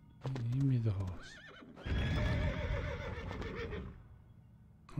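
In the LEGO Indiana Jones video game, a horse gives two clear whinnies, a short high neigh followed by a longer, louder one, faintly backed by hoof clip-clop.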